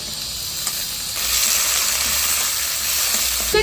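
Tomatoes drop into a hot pan of oil for a winter vegetable recipe, and the sizzle swells louder after a second. It then holds a close, steady crackle, with a light stir or clink now and then.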